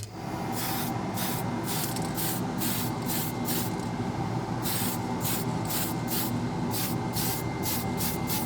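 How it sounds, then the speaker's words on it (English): A spray can of silver leaf paint hisses in a long continuous blast, loud and close, with rapid pulsing bursts as the nozzle is worked. "just a spray can of silver leaf paint as my base coat of color"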